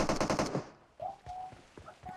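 Rapid automatic gunfire in PUBG Mobile, a loud dense burst of shots for about half a second, then scattered single shots, clicks and game sounds afterward.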